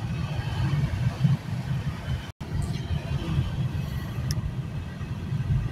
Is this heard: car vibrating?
yes